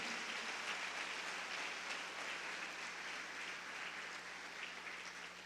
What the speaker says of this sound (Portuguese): Dê uma salva de palmas ao Senhor.